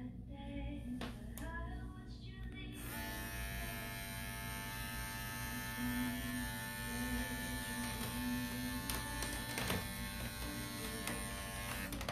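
Electric clippers shave a dog's fur very short during creative pet grooming, giving a steady close buzz that runs unbroken throughout, with faint handling sounds near the start.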